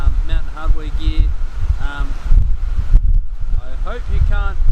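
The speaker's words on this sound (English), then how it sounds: "I hope you can't hear that wind too much." Low rumbling wind buffets the microphone under a person talking outdoors, continuous and fairly loud throughout.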